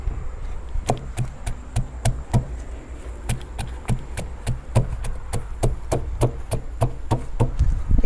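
Ingredients are pounded in a mortar for a Thai seafood dipping sauce at an outdoor riverside cooking session: a steady series of sharp, close, woody thuds repeating about twice a second.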